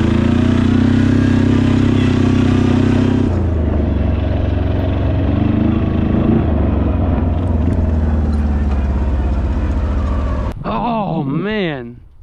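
A military diesel ATV engine runs steadily and loudly while driving up an incline at low throttle, with a droning, uneven rumble that shifts partway through before dropping off at the end, followed by a brief vocal sound.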